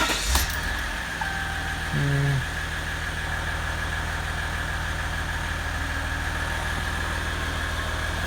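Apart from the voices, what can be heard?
2016 Ram EcoDiesel engine starting and idling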